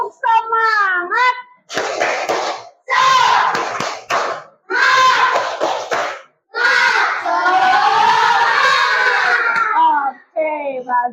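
Classroom students in Indonesia chant and shout together in loud bursts for a rhythmic spirit clap, led by a teacher's voice, with clustered group sounds separated by short pauses.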